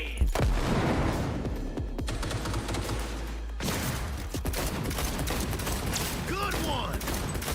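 Dense video game gunfire crackles in rapid, overlapping bursts with heavy booms, loud and continuous throughout, while people talk over the shooting.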